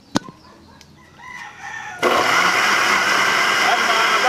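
A blender blending onion and water suddenly starts up loud partway through and keeps whirring steadily after a few clinks and quiet moments.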